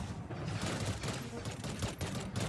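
Rapid bursts of gunfire from the shooter game Nova Legacy rattle on without pause, dense and loud throughout, with a player's voice mixed faintly underneath.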